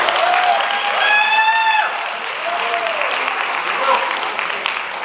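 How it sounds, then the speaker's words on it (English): Audience at a Rotary singing night in Laurens, South Carolina applauds loudly with steady clapping for about two seconds. The clapping then thins out beneath a sustained amplified voice. "Let's give them one more round of applause"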